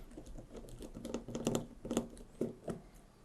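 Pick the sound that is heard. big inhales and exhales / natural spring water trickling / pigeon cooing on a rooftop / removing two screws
removing two screws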